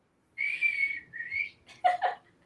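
A person attempts to whistle, producing a couple of thin, wavering tones followed by two short, breathier toots, near and clear against quiet.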